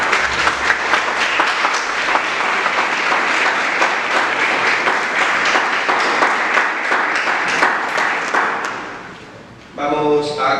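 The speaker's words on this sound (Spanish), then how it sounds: "¿Qué les parece si nos recibimos todos con un fuerte y cálido aplauso?" An audience at an academic book presentation gives a loud, warm round of applause, many hands clapping steadily before tapering off, after which a person begins speaking.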